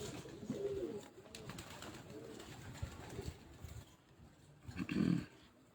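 Breeding pigeons cooing in a loft: soft, low, rolling coos repeat a few times amid rustling and shuffling, close by, with a fuller coo near the end.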